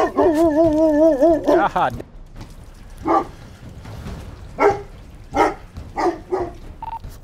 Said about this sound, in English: Lots of dogs, very, very large dogs in the back of the house.